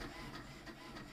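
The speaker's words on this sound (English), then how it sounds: "this is another attempt to print" An HP inkjet printer, fitted with remanufactured cartridges, runs a test print with a steady mechanical whir and faint rhythmic pulses of the print head, close and continuous.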